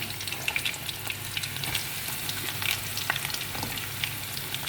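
Chopped onions frying and sizzling in oil in a pan, a steady dense crackle throughout with no talking, cooked for a tikka rice with carrot and raisins.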